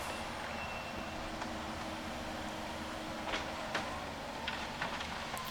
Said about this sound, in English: We're using our borrowed dump truck to move the material.